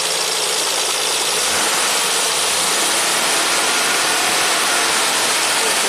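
A 1967 Triumph GT6 engine idles close by with a steady, loud broadband rumble and hiss that holds level without revving.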